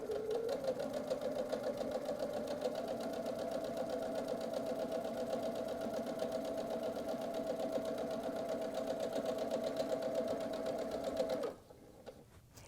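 A sewing machine runs steadily, stitching quilt strips together for a nine patch apron, its even motor whir and rapid needle chatter holding close and loud for about eleven seconds before stopping abruptly.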